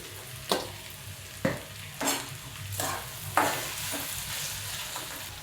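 Onion fries in a pan with a steady low sizzle, broken by about five spoon strokes and scrapes against the metal, close and fairly quiet with no talking.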